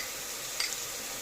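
Onion, garlic and paste fry in oil in a pan with a steady, soft, broadband sizzle and a faint tick of stirring, no voices over it.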